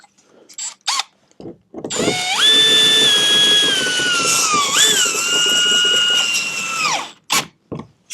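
A power tool drives undercarriage bolts on a Tesla Cybertruck, a sustained high whirring whine that climbs, wavers and drops over about five seconds, bracketed by short clicks and bursts close by.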